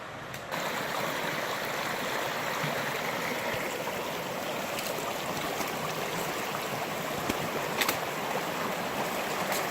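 A mountain stream near the East Fork trail between Vincent Gap and Heaton Flat rushes and splashes in early December, a constant broad watery roar close by with a few brief splashes and no voices.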